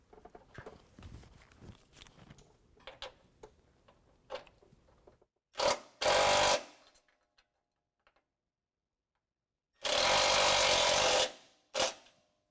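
An impact-style power tool with a 9/16 socket drives a self-threading bolt on a 2018 Ford F-150 coilover lift install, in two loud bursts separated by short blips and silence, after some light clicks and handling noises.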